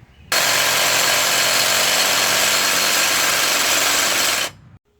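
A power tool cuts through the crankshaft of a run-over scrap bike, a loud steady whine that starts abruptly, holds for about four seconds and stops, with no voices.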